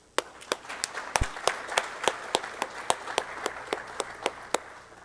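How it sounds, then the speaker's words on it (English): Audience applause at a hybrid technical meeting session, heard as steady, fairly sparse hand claps in a regular rhythm, each clap sharp and distinct, moderately near and without talk over it. "just a round of applause for all the hard work that went into making this happen"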